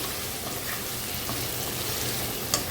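Prawns frying in a pan after sautéed carrots, giving a continuous close sizzling hiss with a few small pops and one brief sharp clink near the end, with no talking.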